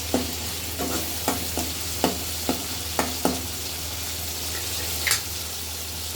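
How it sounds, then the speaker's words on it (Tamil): A potato masala with salt is stirred in a pan over a steady low sizzle, with repeated spoon scrapes at an uneven rhythm and no talking. "உப்பு போட்டு நல்லா மிக்ஸ் பண்ணி விட்டுக்கோங்க"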